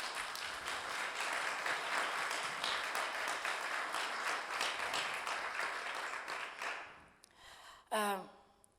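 An audience in a church gathering breaks into sustained, dense applause for several seconds that thins out and fades near the end, followed by a brief voice.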